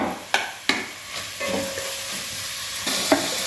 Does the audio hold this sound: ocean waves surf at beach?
no